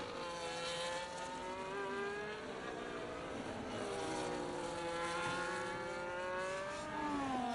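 A racing car engine whines as the car leaves the pits in an F1-style sim race at Brazil, giving a continuous, fairly quiet high drone that shifts pitch through the gears, with no talking.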